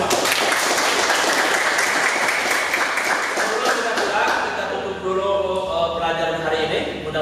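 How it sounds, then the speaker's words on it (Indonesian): A group claps after a lesson, loud and dense for several seconds before thinning out, with speech rising through the fading applause. "Tepuk tangan untuk kita semua."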